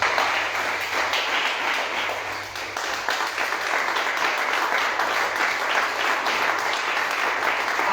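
A church congregation applauds to acclaim the Lord, steady dense clapping from a large crowd filling the room for several seconds, with faint voices mixed underneath.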